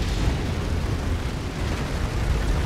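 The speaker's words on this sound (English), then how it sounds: "Emergency generator destroyed." An emergency generator exploding in the MechWarrior 5 video game, a sustained loud rumbling blast with heavy low-end roar holding steady for nearly three seconds, with no voices over it.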